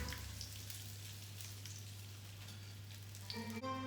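Veal schnitzel fries in hot oil with a constant crackling sizzle and a steady low hum underneath, close and clear, with a brief clink near the end.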